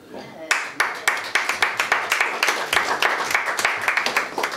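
After a brief quiet start, a small audience at a political meeting breaks into distinct, rhythmic clapping, individual claps clearly audible and fairly close, continuing steadily to the end.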